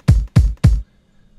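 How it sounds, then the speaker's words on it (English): A bass drum sample for a hip-hop beat thumps three times in an even rhythm, each a deep, punchy, close hit that decays quickly, followed by silence. "Here's my bass drum."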